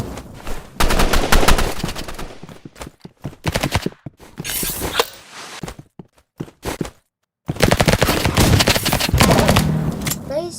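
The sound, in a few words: Uzi gunfire in Roblox Rivals video game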